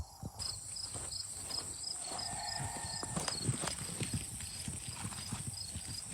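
Rhythmic clip-clop of horse hooves against a bed of chirping insects, with a brief whinny-like tone and a high repeating beep.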